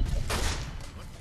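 Burst of gunfire in Fallout: New Vegas, a loud boomy shot with a heavy low rumble that quickly fades, under ongoing game noise.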